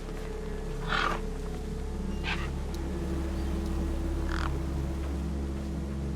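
Gang birds squabble over a corpse in the video game Beyond A Steel Sky: three brief, harsh, crow-like caws spaced apart over a steady low ambient drone.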